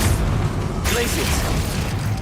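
Glacius ice spell cast in the Hogwarts Legacy game: a sudden bright crackling burst that cuts in and hisses on for over a second, close and loud over a dense battle din.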